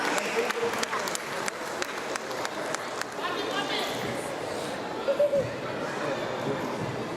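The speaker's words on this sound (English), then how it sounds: "Amazing round of applause, everyone." An audience at a Melbourne community event claps in a burst of applause that fades within a few seconds. Crowd chatter and a voice over a loudspeaker continue underneath and afterwards.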